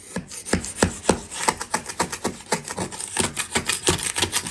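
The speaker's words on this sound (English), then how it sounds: "when we mixed up this floor leveler, there was a few lumps, and all I'm doing is using a 5-in-1 tool" Rhythmic scraping and chopping strokes as a 5-in-1 tool breaks up lumps of mixed floor leveler, about a dozen firm, evenly spaced rasps close by with no talking.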